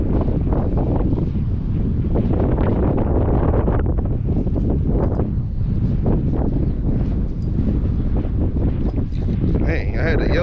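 Strong wind buffets the microphone aboard a fishing boat on a windy day, a loud, continuous gusting roar that stays rough and unbroken throughout.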